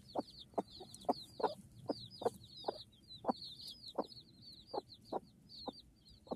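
A native country hen clucks repeatedly in a steady, close rhythm of short calls, with faint higher chirps from small chicks running throughout.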